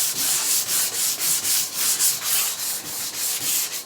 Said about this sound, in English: I can definitely see where I have not sanded there yet.